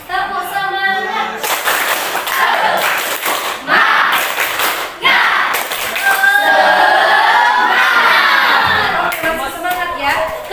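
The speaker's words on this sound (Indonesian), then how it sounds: "Tepuk semangat dulu dong." A school class does a rhythmic clap-and-shout cheer, with many young voices chanting together in loud bursts over sharp group clapping in the classroom.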